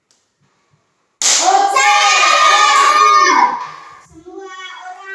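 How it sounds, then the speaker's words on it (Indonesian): Children clap their hands together in a classroom, a burst of dense applause starting after a short silence and lasting about two seconds before fading, with a voice heard afterward. "tepuk tangan untuk dia dulu"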